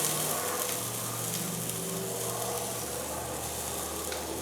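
Onions sizzling on a hot griddle, a steady broadband hiss running unbroken and fairly quiet throughout, close up, with no speech.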